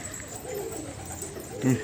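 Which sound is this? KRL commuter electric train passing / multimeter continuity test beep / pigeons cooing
pigeons cooing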